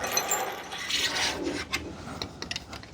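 A wrench tightens a nut onto a screw while an under-sink organizer is being assembled. Quiet, close rasping scrapes come with a few small sharp clicks near the end, and no one speaks.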